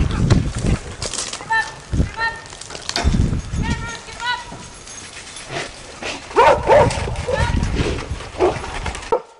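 Several dogs bark and yip repeatedly while chasing a bear near Lake Tahoe, with bursts of barking scattered across the clip and people shouting over them.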